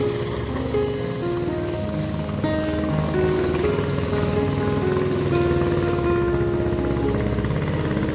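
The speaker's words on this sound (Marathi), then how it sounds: "ट्रॅक्टर निघाला आहे आणि पुन्हा एकदा बघताय चिखलणी करायला सुरुवात झाली." A tractor engine drones steadily and loudly while puddling a muddy rice field, its low rumble continuous and close throughout with no pauses.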